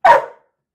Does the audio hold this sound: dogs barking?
yes